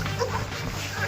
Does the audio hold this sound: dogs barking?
yes